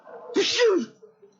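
A single wet, burst-like sneeze with a sharp intake and a loud explosive release, followed by a faint trailing breath.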